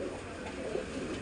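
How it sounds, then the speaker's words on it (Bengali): Pigeon cooing inside a tile-roofed loft, a low continuous murmur of several birds close by amid steady background noise. "পায়রাটা প্রচুর ছটপটে পায়রা"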